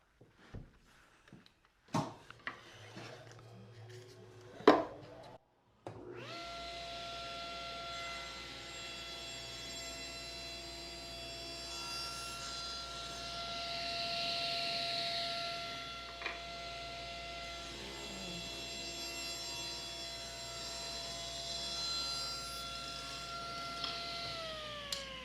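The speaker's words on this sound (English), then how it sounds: "I'll lower the blade a little bit, set the fence at 1 3/4 inches, and make 4 rips." Table saw ripping walnut into strips with the fence set at 1 3/4 inches: after a few clicks and knocks, a faint, steady motor whine with a tonal hum runs on, its pitch dipping slightly near the end.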